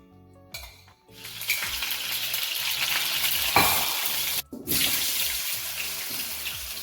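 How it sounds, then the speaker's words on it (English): Potatoes frying in seasoned oil for a spinach corned beef hash, a loud continuous sizzle and crackle, close up, with brief clatters as they are moved in the pan. "And I'm just going to use the same seasoned oil to fry the potatoes."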